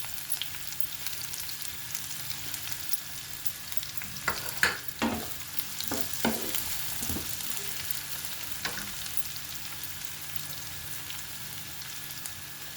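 Curry leaves dropped into frying onions and green chillies give a few sharp crackling bursts, then settle into a faint, steady sizzle with occasional spatters, alone without voices.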